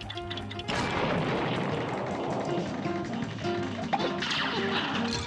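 A boss fires shots at the player in the run-and-gun game Cuphead, dense booming blasts and crashing impacts layered over continuous game music, loud and busy throughout.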